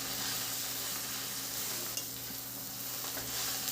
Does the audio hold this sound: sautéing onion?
yes